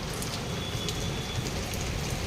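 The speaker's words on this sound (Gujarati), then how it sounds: "વરસાદ અંધારો છે કેવો." Rain pouring steadily onto a rooftop terrace, a dense even patter of drops at moderate volume with no voices.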